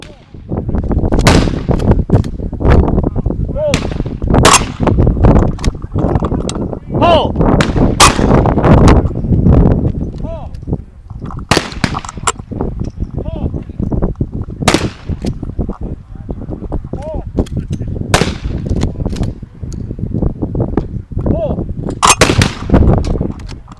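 Shotgun blasts at clay targets boom repeatedly in a steady sequence of loud, sharp reports outdoors, each decaying quickly, with occasional voices between shots.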